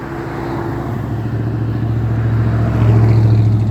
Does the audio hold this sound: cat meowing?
no